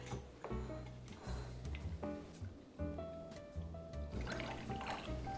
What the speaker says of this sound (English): strain your cocktail on in.